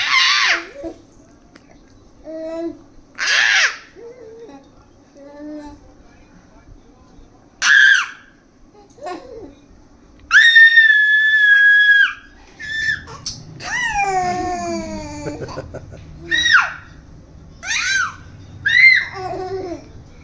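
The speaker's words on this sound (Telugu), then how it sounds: "ఎందుకు అరుస్తున్నావు?" A young child screams and shrieks in loud, piercing bursts, some long and wavering, with pauses and brief whimpers between them.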